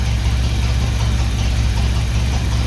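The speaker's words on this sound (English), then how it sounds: "does look like I need to adjust the idling screw so to idle a little bit faster" A 1983 Buick Regal engine fitted with an Edelbrock carburetor idles steadily, a close, constant low rumble with a faint rhythmic pulse and no talking.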